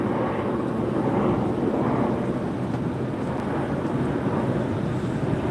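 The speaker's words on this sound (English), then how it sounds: "It looks like a Delta Airbus 321" A Delta Airbus A321 airliner arrives at Los Angeles International Airport, its engine noise a steady, moderately loud rumble with some wind rush throughout.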